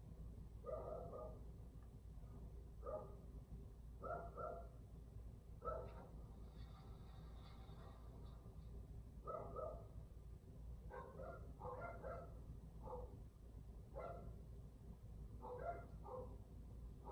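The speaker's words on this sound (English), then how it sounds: "you're hearing like a bunch of dogs bark right now" Several dogs bark in repeated bursts at a moderate distance, clustered yips and woofs over a steady low background hum, with no talking.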